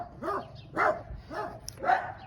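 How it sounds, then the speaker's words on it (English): Several dogs barking together at a distance, four rhythmic barks about half a second apart, with a faint yip among them. "Oh, a chorus of dogs."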